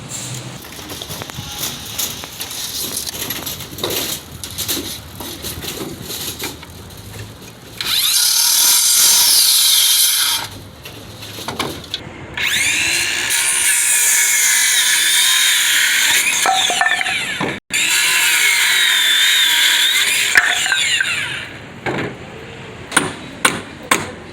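A power drill driving screws into a wooden board-up frame, several long loud whirring bursts separated by pauses, with scattered knocks and handling clatter between them.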